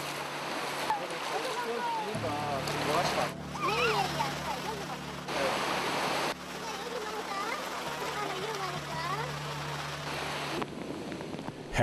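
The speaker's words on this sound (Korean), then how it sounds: "해무에 더해 태풍까지 남해안 쪽으로 접근하면서 파도도 점점 거세진다." Heavy sea waves rolling in along a southern coast as a typhoon nears, a steady loud wash and surge of surf with boat engine rumble underneath and voices talking over it throughout.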